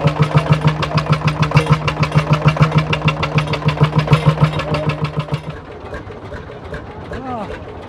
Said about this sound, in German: Dieser Lanz ist von 1923 mit 12 PS und löppt.